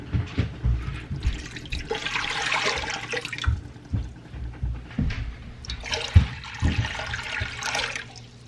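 Cold tap water runs over frozen venison in a home kitchen sink, a steady close splashing stream that swells in two longer bursts with small clunks between.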